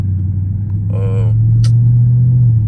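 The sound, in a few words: Dodge Charger Scat Pack car driving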